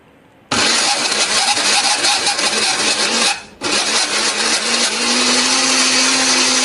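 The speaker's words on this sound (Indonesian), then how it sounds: "Nah, ini akan kita haluskan menggunakan blender. Beri sedikit air ya supaya lebih gampang untuk menghaluskannya." An electric blender roars on suddenly and grinds candlenut, turmeric, pepper and coriander with a little water, loud and steady, dipping briefly as it stops and restarts, then whirring on continuously.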